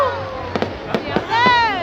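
A fireworks display in Hai Duong throws several sharp bangs in an uneven sequence beneath a person talking in the foreground.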